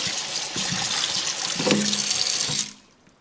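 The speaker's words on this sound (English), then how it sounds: "Just rinse your menudo well" Running tap water splashes into a sink as tripe for Mexican menudo is rinsed and moved around under the stream, a steady close rush that cuts off abruptly near the end.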